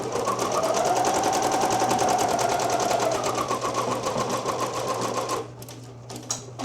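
A Ricoma Creator embroidery machine stitches with a loud, steady, rapid mechanical whir close by, then the rhythm breaks up and thins near the end as it finishes the last stitches.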